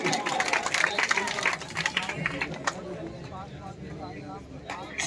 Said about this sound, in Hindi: सभी लोग एक बार ताली बजा दें, अपने खुद के लिए बजा दें